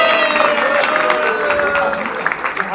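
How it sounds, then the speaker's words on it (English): Crowd applause for Oppo and Top 10 Retails at a phone unboxing event, steady clapping and some cheering layered over voices and a sustained tonal sound. "Can we have a huge round of applause for Oppo and the top 10?"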